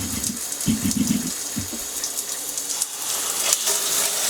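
Water sprays steadily from an eco water-saving shower head on its full blast setting, heard close up as a dense, continuous hiss with a few faint bumps and handling noises.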